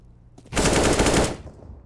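Automatic gunfire sprayed in a Counter-Strike match on Mirage, a loud sustained burst of rapid shots lasting under a second, close and with no other sound over it.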